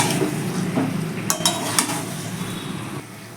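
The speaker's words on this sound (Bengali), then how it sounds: "এবার আলুটাকে ভালো করে মশলার সাথে মাখিয়ে আরও দু তিন মিনিট একটু কষিয়ে নেব" Fried small winter potatoes tossed with spices in a pan for a dry aloo dum: a steady close sizzle with several scraping spatula strokes against the metal, and no voices.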